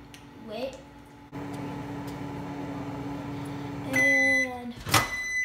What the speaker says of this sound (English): you microwave it.